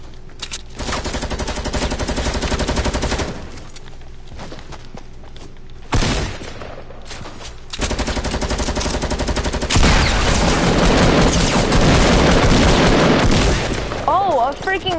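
Sustained automatic gunfire from a shooting video game rattles loudly and almost continuously, with brief pauses and bursts, while someone talks over it.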